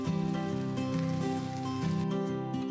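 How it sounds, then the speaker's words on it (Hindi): Savour pulao kebabs fry in oil in a pan with a dense, steady sizzle like rain on a surface, heard up close, with tonal music playing underneath. "अब इसी तरह से बाकी भी सेवर पुलाव के कबाब मैं फ्राई कर लूंगी।"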